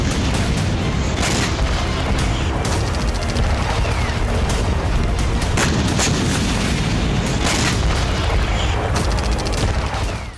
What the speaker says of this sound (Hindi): अमेरिका और ब्रिटेन ने यमन की धरती पर विस्फोट किया